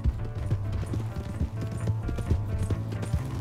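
Horse hooves in Red Dead Redemption 2 clop in a quick, steady rhythm, close and fairly loud, a running gait drumming on the ground with no talk over it.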